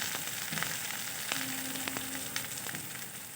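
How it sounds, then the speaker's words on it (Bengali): Chopped onion frying in oil fills the clip with a loud, continuous close sizzle, broken by a few light clinks of a utensil against the pan, with no speech. "পেঁয়াজটা আমি খুব ভালোভাবে ফ্রাই করে নেব।"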